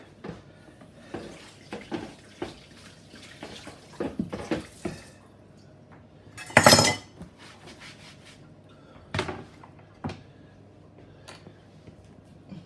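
Lobster being rinsed under running water: intermittent splashes and drips with clinks of dishes and utensils, plus one brief louder gush of water midway.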